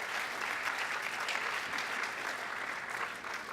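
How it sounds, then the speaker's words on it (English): Steady, dense applause from an audience at an evening youth talent showcase, sustained and even for a few seconds with no voices standing out. "So please give our Young Star sponsors a round of applause."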